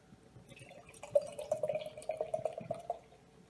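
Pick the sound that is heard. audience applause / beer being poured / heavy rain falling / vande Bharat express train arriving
beer being poured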